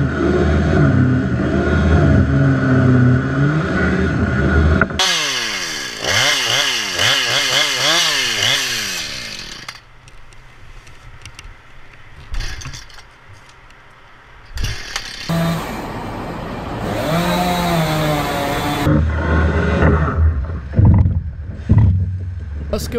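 A Husqvarna Rancher homeowner chainsaw runs close by during crane work on a highway clearing lemon scented gum trees, its engine droning, revving up and down and bogging in cuts across the whole stretch.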